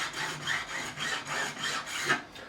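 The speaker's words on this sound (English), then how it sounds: "take my crowning file, which already has that crown built in, and we just round it over to remove any burrs or any unevenness" A crowning file rounds over a fret on a PRS SE Standard 24 guitar in quick, even back-and-forth strokes, making a close, light metallic rasp with no talk over it.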